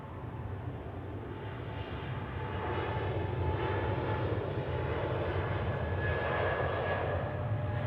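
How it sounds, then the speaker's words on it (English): An airliner takes off from runway 28 at Zurich Airport with a continuous distant jet roar that builds slightly and holds steady. "runway 28 cleared for takeoff"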